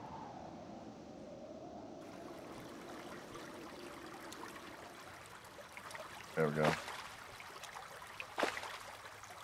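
Water flows steadily in the Terraria video game, a soft continuous trickle running under a brief spoken remark, with a couple of louder splashy bursts near the end.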